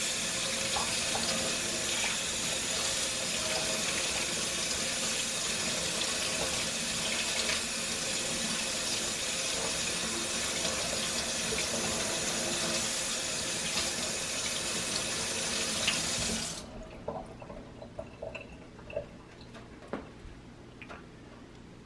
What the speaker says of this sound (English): you want to give it a good run under cold water